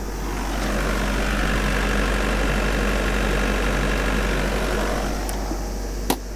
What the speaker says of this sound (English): it is a diesel and so it is noisy. In fact, it's idling a little bit high.